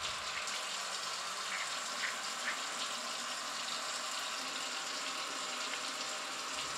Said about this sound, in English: wash your hands for 20 seconds using soap and water